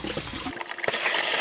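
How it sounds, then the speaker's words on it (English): Water and air gurgle and surge through the lower radiator hose of a 1999 Toyota Camry, a busy wet rushing with a sharper spurt near the end, no talk. "Now I'm going to be pumping water and air through the lower radiator hose"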